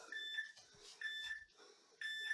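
A workout interval timer sounds three countdown beeps, one a second. They are evenly spaced, fairly quiet tones, with faint gym background sounds between them.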